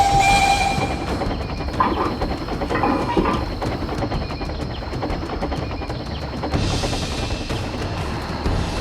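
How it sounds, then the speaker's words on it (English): A train moves continuously throughout, with loud steady rumbling and rolling noise, an intermittent high tone like a whistle near the start, and rising hiss toward the end. "Whatever you do, don't stop the train until those points."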